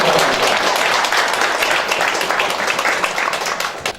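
Audience applause at a Clean Day declaration ceremony, a dense steady wash of clapping that stays loud throughout and tapers slightly at the end.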